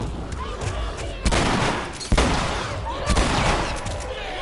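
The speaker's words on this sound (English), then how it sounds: "3 shots to kill the bloater is bad" Gunfire from The Last of Us on Grounded difficulty, aimed at a bloater: several loud, close shots with heavy, booming reports over a dense, noisy game soundscape.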